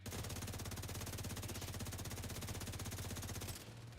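Rapid automatic gunfire from Tom Clancy's The Division 2 hammers in a dense, even burst for about three and a half seconds, then drops to a quieter tail.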